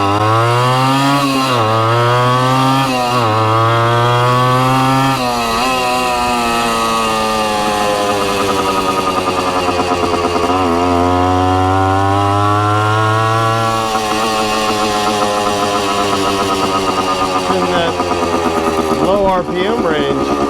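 A Suzuki TC-90 motorcycle engine revs loudly and continuously nearby, its pitch climbing and falling through repeated throttle blips and gear changes. A voice speaks intermittently over the running engine.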